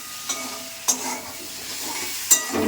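Fish curry being stirred and fried in a pan, a soft sizzle under three distinct spoon knocks against the metal, close and with no voices.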